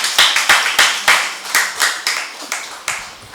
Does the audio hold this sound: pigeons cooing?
no